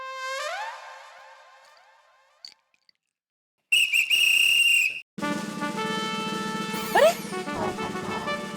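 Chacha ji blows a shrill whistle in a busy Gokuldham housing society scene, a loud piercing tone held for over a second, with gliding whistle-like sounds and other noise around it and no talk.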